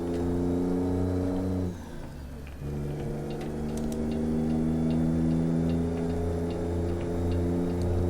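A 1000 hp Cummins ISX truck engine in American Truck Simulator drones loudly at high revs, dipping briefly as if shifting or easing off, then climbing back to a steady, powerful roar.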